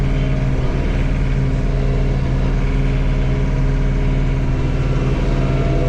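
A John Deere 3046R compact tractor engine runs steadily under load up close, a loud constant mid-pitched drone with no change in speed and no talking.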